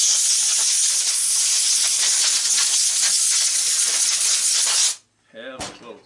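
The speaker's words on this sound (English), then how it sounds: "Air hose cleans it up pretty quick." An air hose blasts crud off scrap electric motors in one loud, steady hiss lasting several seconds. It then cuts off abruptly, followed by a brief clatter.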